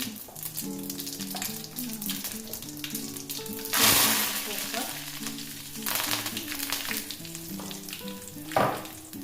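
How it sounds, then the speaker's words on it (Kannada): Cumin and mustard seeds hit hot oil and sizzle, a bright crackling hiss that swells loudly, fades and flares again, over faint background music. "ಈಗ ಎಣ್ಣೆ ಚೆಂದಾಗಿ ಕಾಯ್ದೈತಿ ಇದಕ್ಕೆ ನಾನು ಸ್ವಲ್ಪ ಜೀರಿಗೆ ಸಾಸಿವೆ"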